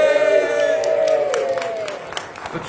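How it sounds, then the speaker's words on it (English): Church congregation cheering together on a count of three during a service, a loud burst of voices and whoops that swells at once and then tails off into scattered claps and murmur. "So on the count of three, we're going to cheer for So, and we're going to encourage him"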